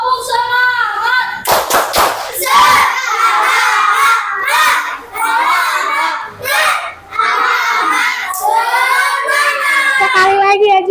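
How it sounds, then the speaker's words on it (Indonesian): A group of children shout the tepuk semangat chant in a classroom, loud rhythmic clapping bursts alternating with chanted voices in quick call-and-response over about eleven seconds. "Kita tepuk semangat dulu ya"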